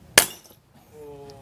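A batu akik gemstone shatters when shot: one sharp, loud crack of breaking stone with a bright splintering burst near the start, then a faint tonal ring and low room noise.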